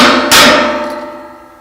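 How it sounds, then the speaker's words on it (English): A single sharp, loud hammer strike seats a carriage bolt's shoulder into the metal base board of a Zimmerman high tunnel, leaving a bright metallic ring that slowly fades. "just give it a little hit with a hammer"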